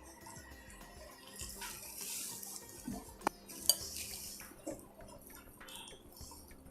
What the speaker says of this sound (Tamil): 1 கப் தண்ணி எடுத்துருக்கேன், ஆனால் ஒரு ஹாஃப் விடுறேன் ஃபஸ்ட்டு.